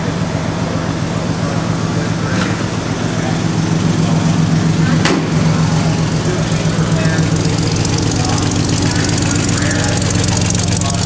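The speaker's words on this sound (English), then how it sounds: "That is the sweet purr of Chevrolet's inline six from 1938 in this sweet little show truck." A 1938 Chevrolet inline six engine in a pickup truck idles with a steady, even purr and low rhythmic chug, close and constant throughout.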